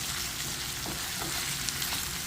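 Pesto-coated potatoes fry in a pan and get stirred, with a dense, continuous close sizzle holding at an even level and faint scraping underneath, no voices.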